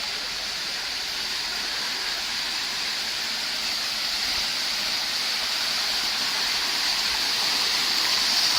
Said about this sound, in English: The streams are all flowing